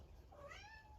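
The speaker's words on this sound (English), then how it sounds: "I don't know if you can hear my cat meowing." A house cat gives a single faint, rising-and-falling meow indoors, soft and somewhat distant against low background noise.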